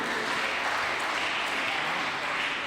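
Congregation applauding at an Erev Shabbat service honoring five B'nai Mitzvah, a dense, even wash of clapping that holds steady throughout and sounds close and full.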